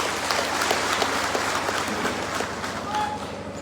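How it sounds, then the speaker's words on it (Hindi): An audience at a political rally in Sadiya, Assam, where the Chhattisgarh Chief Minister is speaking, gives sustained, vigorous applause. The dense clapping holds at an even level throughout. "जोरदार ताली बजा के"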